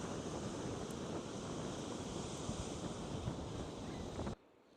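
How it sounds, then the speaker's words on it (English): Strong 30 to 40 mph wind gusts roar across the microphone on the Great Lakes in a continuous, heavy rush, with waves churning beneath, before cutting off abruptly near the end. "About 30 to 40 mile per hour gusts"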